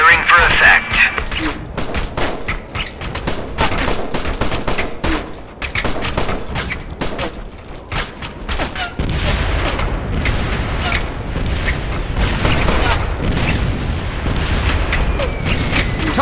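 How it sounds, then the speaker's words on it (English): High-explosive harassing artillery barrage in Operation Flashpoint: Red River, a relentless string of loud booms and cracking impacts mixed with scattered gunfire, growing heavier and more rumbling in the second half, with radio voices talking over it. "I want HE harassing artillery, 150 meters, northeast of my position"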